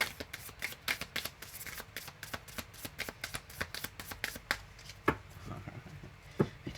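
Tarot cards are shuffled in rapid, crisp riffling bursts for a love reading, close and fairly quiet, with sharp slaps and flutters repeating in quick rhythm.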